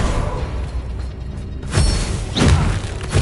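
Expelliarmus disarming spell cast during Hogwarts Legacy combat, two booming impacts landing over a constant rumble of battle noise, the second slightly heavier.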